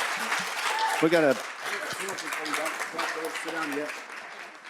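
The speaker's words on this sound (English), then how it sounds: "Let's give her a big round of applause." Audience applause at a tribal public health policy event in Kansas, a continuous wash of clapping from a room of people, with a voice speaking over it and the clapping tapering off toward the end.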